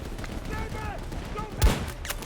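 A single sharp sniper rifle shot cracks near the end of a short stretch of Battlefield 2042 gameplay, over low game ambience and a brief human voice.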